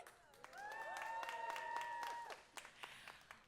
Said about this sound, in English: It's a little weird to clap and applause, but you guys can make some noise.